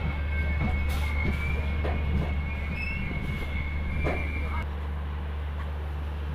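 Inside the Padmavat Express 14208 on the Delhi to Pratapgarh run: a steady low rumble of the moving carriage with faint wheel squeals and rail clicks, continuous and fairly close.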